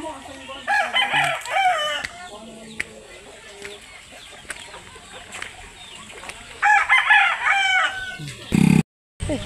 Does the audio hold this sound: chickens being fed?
yes